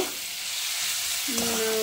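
Rice being stirred into fried prawns and egg in a pan, a steady broadband sizzle with a brief scrape and tonal squeak of the spoon near the end, close and fairly loud, no talking.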